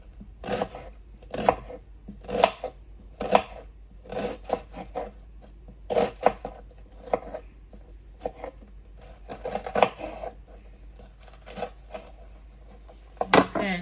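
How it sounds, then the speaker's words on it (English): A knife cuts plantain into thin slices on a board, giving a series of crisp, close chops in uneven bursts with brief pauses between them. "I'm gonna slice it thin"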